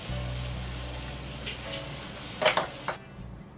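Basa fish fillets pan-frying in a pan, a steady low sizzle with a few sharper crackles and spits near the end before the sound suddenly drops away.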